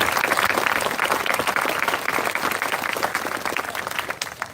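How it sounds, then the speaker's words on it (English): A crowd at an outdoor Memorial Day event in Lone Tree gives the park services team a warm round of applause, dense clapping from many hands that swells early, then gradually thins and fades. "So if we can give them a round of applause."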